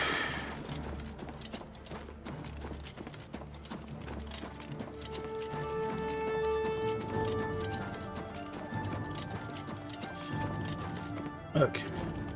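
Horse hooves clip-clop in a steady rhythm in the video game Oblivion Remastered, mid-level and continuous under ongoing conversation.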